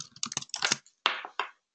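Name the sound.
typing on a computer keyboard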